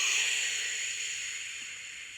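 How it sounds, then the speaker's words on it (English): Long breathy sh hiss of a slow exhale during a deep breathing exercise, steady and soft, gradually fading. "you're going to make the S or the sh sound"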